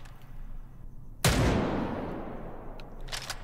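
One loud, sharp AR-50A rifle shot in the video game H3VR cracks out close and booms, its echo fading slowly over a couple of seconds before faint clicks follow.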